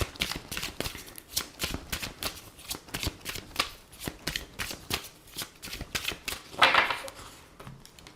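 Oracle cards are shuffled by hand in a steady run of crisp, papery slaps and riffles, close and fairly loud, continuing for about eight seconds.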